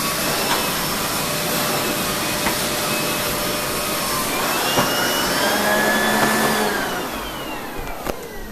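A Sebo upright vacuum cleaner runs steadily on carpet, a close, loud continuous whine and rush of suction with small shifts in pitch as it moves.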